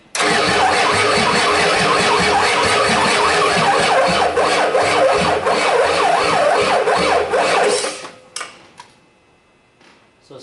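A starter motor cranks a 1989 Ford 7.3 IDI diesel engine that will not fire on weak batteries, a loud, steady, rhythmic whirring grind for about eight seconds that stops abruptly, followed by faint clicks and knocks.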